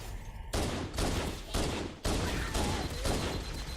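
Gunfire in Halo: Combat Evolved comes as a rapid series of close, punchy shots in quick bursts, several blasts in a few seconds with no talk.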